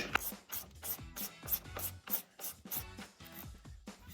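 A wrench ratchets a nut onto a VW Beetle chassis bolt, with about a dozen quick, regular clicking strokes heard close and quiet.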